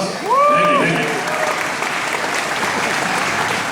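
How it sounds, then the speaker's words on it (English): Audience applause at a KISS Kruise pick-throwing event in Las Vegas: a loud, dense burst of clapping with a shrill whistle near the start, holding steady for several seconds. "I give him a round of applause"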